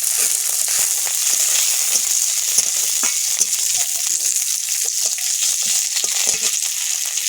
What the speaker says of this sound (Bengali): পেঁয়াজ, কেটে রাখা পেঁয়াজ, কাঁচা লঙ্কাগুলো দেবো